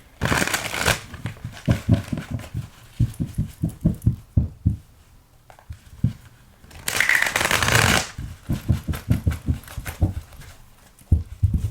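Tarot cards shuffled by hand in close, rapid riffling bursts, crisp papery flutters alternating with softer rhythmic tapping of the deck, alone with no voices.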